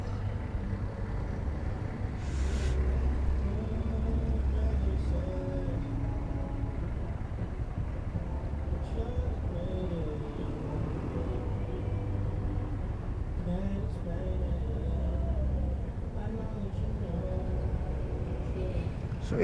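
Low idling rumble of road traffic backed up near road works in Bacoor, heard from a Honda Wave RSX motorcycle, with engines droning and someone talking over the steady hum.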